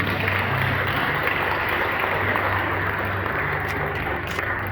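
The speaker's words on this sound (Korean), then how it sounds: "큰 박수 부탁드립니다" Wedding guests applaud after the ring exchange, a continuous, fairly loud wash of clapping with a low background hum and no talk.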